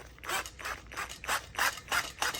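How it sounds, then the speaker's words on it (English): Screws turned slowly into wood by hand while assembling a corner desk, giving about six rhythmic rasping creaks close up, each under half a second with short pauses between. "I'm letting the screws work themselves into the wood rather than forcing it in."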